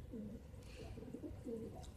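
Pigeons coo in soft, low repeated phrases, several rolling bursts over about two seconds, fairly close above a steady low background hum.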